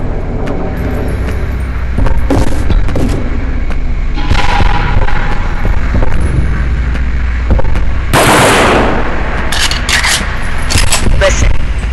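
Gunfire from a Marine's weapons in the Aliens vs Predator video game, with loud bursts and sharp cracks over a constant mechanical background hum, some louder blasts near the end.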